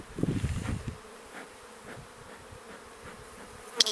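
Honeybees buzz softly around an open hive while an artificial swarm is made, a steady faint hum with a louder burst of close buzzing at the start and a sharp knock near the end.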